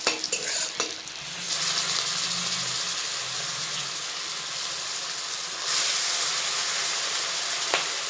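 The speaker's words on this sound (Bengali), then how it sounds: "সব চিংড়ি মাছগুলোকে আমি এরকমভাবে ভেজে নিয়েছি সুন্দর করে।" Prawns frying and sizzling in hot oil in a pan, a steady loud hiss with scraping stir strokes and a few utensil knocks, heard up close with no talking.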